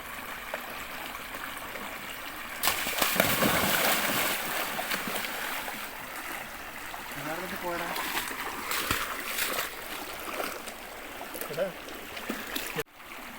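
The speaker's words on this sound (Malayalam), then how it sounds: "ഒരു തോട്ടിലോട്ട് ചാടിയിട്ടുണ്ട്" A small stream flowing steadily with a broadband rushing wash and occasional splashes, moderately close, with faint voices at times.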